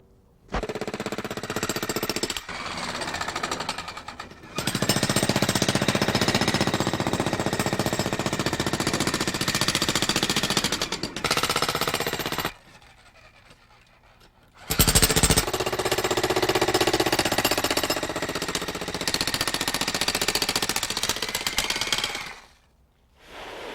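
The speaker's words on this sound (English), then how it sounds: "renting a jackhammer to break up the concrete" A loud jackhammer breaks up concrete in long sustained bursts, broken by a few brief pauses, close by and harsh with no talking.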